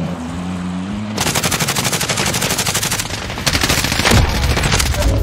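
Rapid automatic gunfire from Call of Duty Warzone rattles almost nonstop after a quiet opening second, loud and dense, with a heavier stretch of shots toward the end and no talking.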